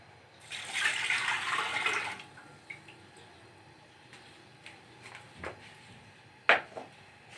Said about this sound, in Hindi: एक जग पानी डाल देंगे।